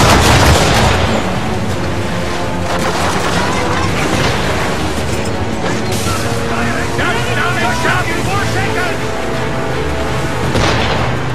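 Ship cannons boom in a loud, dense naval battle in Assassin's Creed 3, with heavy repeated blasts and crackling gunfire layered under shouted orders and constant battle noise.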